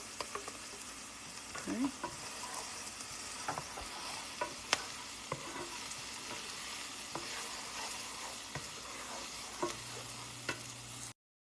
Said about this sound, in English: When the onions are sizzling like so